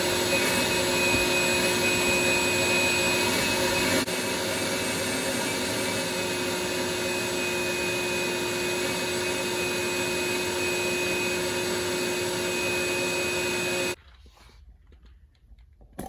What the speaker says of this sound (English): let's get the vacuum after this